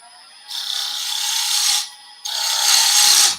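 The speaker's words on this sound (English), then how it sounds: "I'm going to go back to my rough and gouge for now." A roughing gouge cuts into a piece of wood spinning on a lathe, for a small light pull or keyring, making two loud, sustained cutting bursts separated by a short pause.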